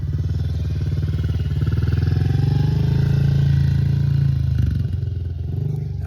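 A 2025 Honda 110 dirt bike held in first gear, riding circles in a yard: a steady droning engine hum that swells and eases slightly as it passes, moderately close, no talk.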